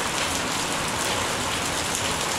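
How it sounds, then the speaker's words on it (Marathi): Heavy rain falls steadily as a dense, even hiss of drops on surfaces, loud and continuous with no voices. "पाऊस पडला जोरदार पडतोय"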